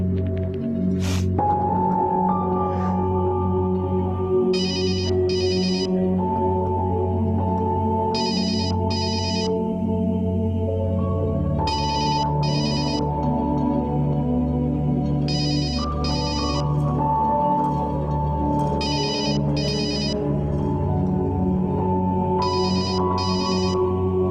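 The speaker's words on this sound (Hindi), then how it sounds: "फोन क्यों नहीं उठा रही है सैरिश? घर के नंबर पे कर।" A telephone rings unanswered: repeated pairs of electronic trills over a steady bed of background music and tones, with no talk.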